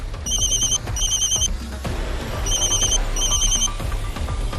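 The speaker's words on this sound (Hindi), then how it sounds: "आपके मोबाइल पर बजी एक घंटी या फिर एसएमएस के बीप से" A mobile phone ringing loudly in repeated bursts of an electronic ring tone, two pairs of rings over a rumbling background.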